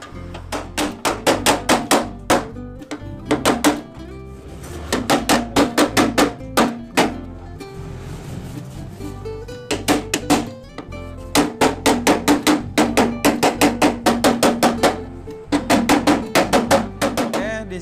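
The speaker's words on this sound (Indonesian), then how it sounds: "Di sini gua menggunakan palu yang sedikit agak kecil ya." Rapid bursts of small hammer blows on a thin metal Vespa LX scooter body panel, sharp ringing taps in quick rhythmic runs separated by short pauses, close and loud.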